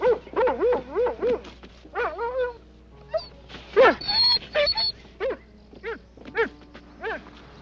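A dog whimpers and yips in a run of high, wavering cries, breaking into a few short barks, close by with no talking.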